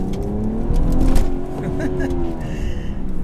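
A BMW 340i Sport xDrive engine revs up as the car accelerates, its loud, rising drone climbing steadily in pitch before levelling off into a strong, sustained roar.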